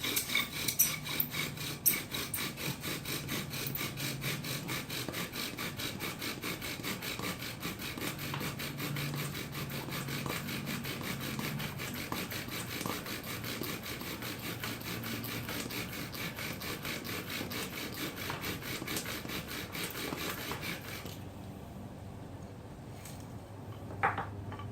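A bow drill spins back and forth on wood to make fire, a steady rhythmic rasping scrape, close and continuous for over twenty seconds before stopping.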